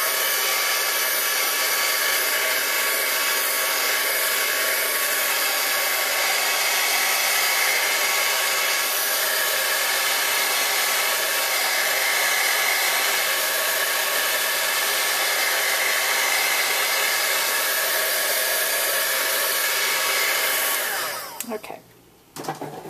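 A heat tool runs steadily and loudly on a mixed media butterfly art card for about twenty seconds, a broad continuous whoosh that cuts off abruptly near the end.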